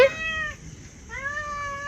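A cat meows twice in quick succession, loud and close, with no talking over it.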